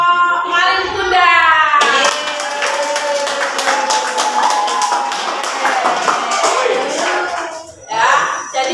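A classroom of children claps for a presenting group, with busy, close hand claps under overlapping young voices and cheers that rise and fall before a brief dip near the end.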